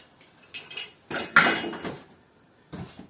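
Keys and small holders from a Scheppach HF60 tabletop router kit are handled and set down up close, giving a few separate metallic clinks and clacks with quiet gaps between them.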